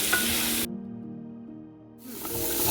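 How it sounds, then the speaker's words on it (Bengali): Pointed gourd pieces frying in hot oil with salt and turmeric, a loud steady sizzle that cuts out abruptly for over a second, leaving a faint low hum, then returns as strong as before. "পটলগুলো আমি এবার ভালো করে লাল লাল করে ভেজে নেব।"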